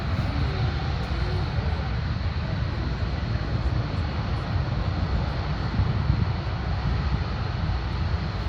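U.S. Navy Blue Angels jets at the 2025 Augusta air show spool their engines up on the runway, producing a steady, loud, continuous roar with deep rumble that holds constant throughout.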